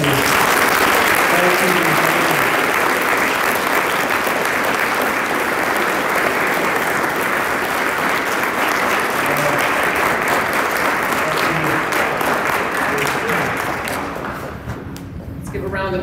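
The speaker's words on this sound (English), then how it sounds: "Give a round of applause." Sustained applause from a banquet audience at a youth academy awards dinner, dense and steady from a large crowd, tapering off near the end.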